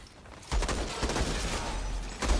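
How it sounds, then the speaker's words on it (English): A newly acquired gun fires in the video game Outriders, a rapid, sustained burst of close, punchy automatic shots with heavy low thumps, starting abruptly and running continuously. "let's see my new gun in action"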